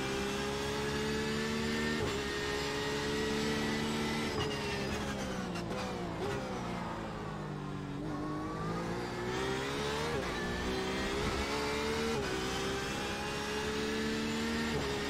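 Porsche 911 RSR GTE engine in iRacing at Suzuka, a loud continuous in-car race engine howl rising and falling with repeated revving, shifts and lifts over fifteen seconds, with no talk.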